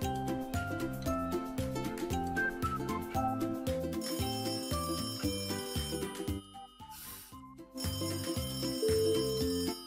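A telephone rings with a bright, continuous electronic trill, loud and close, pulsing in rapid repeated bursts with a brief dip before resuming.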